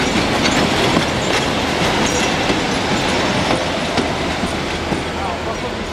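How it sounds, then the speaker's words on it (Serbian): Train rolling on rails near Zlatibor in Serbia: loud close rumble and rhythmic clatter of wheels over track joints, with faint squeals and voices mixed in. "Ovdje je moj voz prazan."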